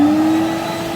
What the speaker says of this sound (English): I took the Hoover on, and let me show you how he works.